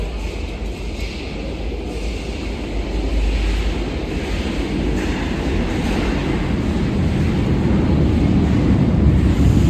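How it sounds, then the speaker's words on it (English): A rumbling Paris metro train rolls into a station, a low steady roar building slightly over several seconds with faint rattling, no voices. "I guess the train is coming. No, it's coming in 3 minutes. The other side is coming."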